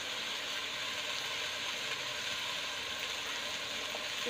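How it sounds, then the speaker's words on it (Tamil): Mint, ginger and garlic paste sautéing in a pan, a steady faint sizzle and hiss that runs unbroken throughout, close and without talk. "பாருங்க சூப்பராக வதங்கிட்டு இருக்கு."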